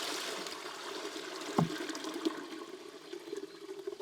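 Water tipped from a barrel into livestock waterers at a medieval chateau, a steady rushing pour with splashing and trickling throughout.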